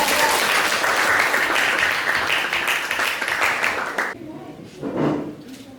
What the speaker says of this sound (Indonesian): Oke, tepuk tangan buat Bapak.